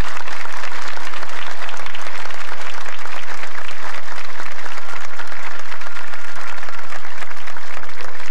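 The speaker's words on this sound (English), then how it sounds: "I would like us all to applaud them for their outstanding speeches tonight" A high school graduation audience in South Berwick, Maine, applauds student speakers: loud, dense, sustained clapping from a large crowd, steady throughout with no break.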